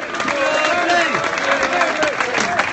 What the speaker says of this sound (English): Round of applause for Neal Ardley.